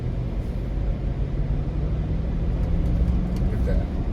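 A 2009 Lexus LX570 fitted with a 2021 body conversion kit rolls through busy Dominican Republic traffic, its steady low engine and road rumble continuous and close throughout.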